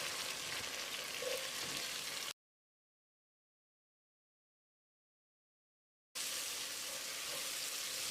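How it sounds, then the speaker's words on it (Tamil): Tomatoes sizzle softly in a hot pan while being sautéed for mutton biryani, a steady frying crackle that cuts out for a few seconds of silence, then resumes. "தக்காளி நல்லா மசிகிற அளவுக்கு வதக்கணும்."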